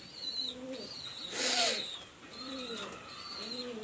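A golden pair of pigeons coos in a loft, giving several low rolling coos close by, with higher bird calls and a brief hissing burst in the background.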